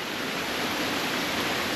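Water running steadily down a hillside where it springs from the ground, a continuous broad rushing wash that stays even and close throughout, with no voices.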